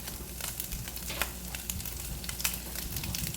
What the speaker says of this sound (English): now we're just going to put the onions in here and let them kind of saute a little bit